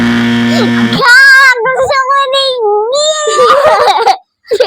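Pet cat meowing in loud, drawn-out wails, several long rising and falling cries in a row, close by with no talk over them.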